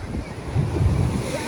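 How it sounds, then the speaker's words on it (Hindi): Sea waves crashing on a windy shore near Ram Setu, a steady roar of surf with low surges and wind buffeting the microphone, with no talk. "और समुंदर की लहरें देखो"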